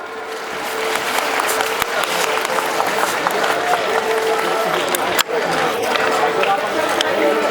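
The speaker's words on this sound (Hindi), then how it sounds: "हमारे इन ऑनरेबल गेस्ट के लिए एक बार फिर से जोरदार तालियां।" An audience applauds honored guests at a school annual day, steady and sustained clapping from a large crowd that fills the whole stretch.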